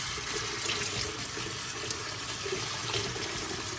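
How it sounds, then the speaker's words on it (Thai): Cold tap water runs steadily into a sink while vegetables are rinsed, a constant, close splashing flow without pauses. "ผ่าน้ำเย็นนะจ๊ะ สีจะได้สวยๆ"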